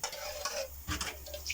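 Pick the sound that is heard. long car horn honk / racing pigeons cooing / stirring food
stirring food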